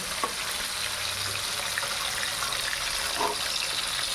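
A steady, close sizzle of rohu fish pieces frying in a pan as they are turned, with a couple of soft clinks from a utensil; no one speaks.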